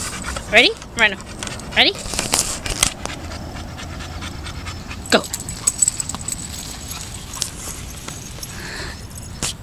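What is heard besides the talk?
dog panting and running around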